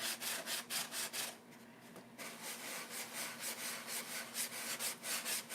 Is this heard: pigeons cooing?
no